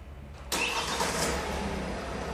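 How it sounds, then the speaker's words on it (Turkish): A Kia City car engine cranks and catches abruptly, then settles into a steady, loud idle close by, with no talking. "Çalıştırın arabayı."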